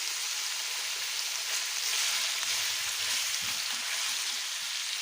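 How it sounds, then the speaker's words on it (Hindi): Mutton sizzling in a pan with ginger garlic paste for shinwari karahi, a steady bright frying hiss with faint stirring scrapes, close and alone with no talk. "ये देखिए गोश्त हमारा बहुत अच्छे से फ्राई हो चुका है।"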